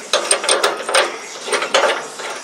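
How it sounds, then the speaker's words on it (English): A hand ratchet clicks in quick bursts, tightening bolts on the top side of a replacement part being fitted in a repair, several rapid runs of ratcheting with brief pauses, close and fairly loud with no talking. "get it bolted up here on this top side"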